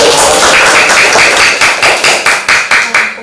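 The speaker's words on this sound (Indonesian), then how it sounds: "Silakan berikan tepuk tangan yang meriah" Students in a classroom clap together on cue, giving a round of applause. The claps are loud, close and strongly rhythmic, falling as a steady run of distinct beats with no talking.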